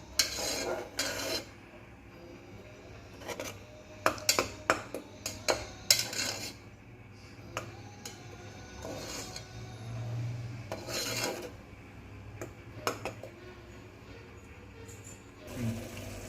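Mushroom biryani masala is stirred in a pan over a low flame, a spoon scraping and rasping against the metal in irregular strokes with occasional sharper clinks, close up and without talk.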